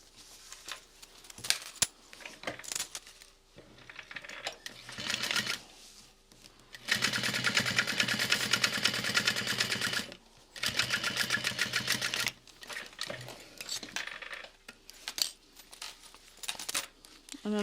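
Sewing machine top stitching the pieces of a clutch wallet, running in several bursts of steady rapid stitching, the longest lasting about three seconds, with quieter handling and fabric shuffling in the pauses between runs.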